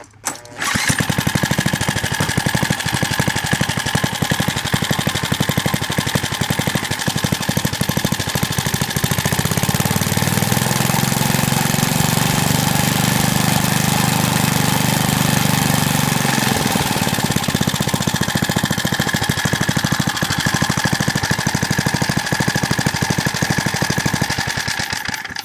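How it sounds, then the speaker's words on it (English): An old Power Trim PT1 lawn edger's small engine running steadily at speed, a loud, even, rattling buzz that holds for the whole stretch with slight shifts in pitch and no voices. "starts and idles and runs at its RPM"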